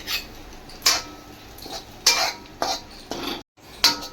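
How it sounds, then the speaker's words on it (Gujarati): Desiccated coconut stirred in hot ghee while making coconut laddu, heard as a string of separate scraping clinks from a utensil against the pan. Several sharp strokes come at irregular intervals, with a brief silence just before the last one. "ટોપરું નાખીને આપણે આને સતત હલાવશું"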